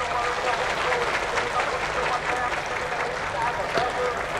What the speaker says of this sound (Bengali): জোরে করতালির মাধ্যমে মাননীয় মুখ্যমন্ত্রীকে মঞ্চে স্বাগত।